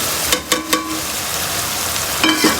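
Fried okra being stirred into an onion masala in a pan, with a few distinct scrapes and stirs near the start and two more at the end, under a steady soft sizzle.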